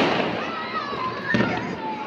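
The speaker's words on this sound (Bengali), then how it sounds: "ফটকা বাজাচ্ছে, ফটকা ফুটাচ্ছে।" Firecrackers and fireworks go off on New Year's night in Bangladesh, a distant crackling wash with a whistling rocket rising and one sharper burst, while voices chatter underneath.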